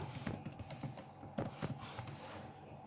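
A password is typed on a computer keyboard to log in to the Librus school system: quick, irregular, fairly quiet keystrokes clatter for about three seconds.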